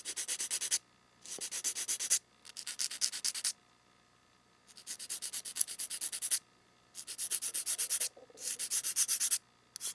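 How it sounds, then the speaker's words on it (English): Sandpaper rubs the ears off a tied oboe reed in close, raspy bursts of quick back-and-forth strokes, several sanding passes separated by short pauses. "I will sand the ears off. and try to make them even"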